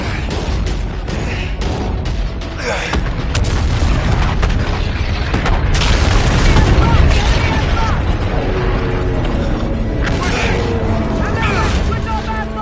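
Dense naval battle from Call of Duty: Infinite Warfare, with loud repeated booms, explosions and gunfire rolling continuously under urgent shouted commands, occasional heavy blasts standing out from the constant din.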